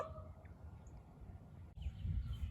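Wild birds call faintly in the distance outdoors, a few thin chirps over a low rumble of wind and background noise, with no one speaking.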